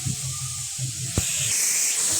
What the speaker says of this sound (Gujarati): મેગી બને છે, જોઈ લ્યો આ કુકરમાં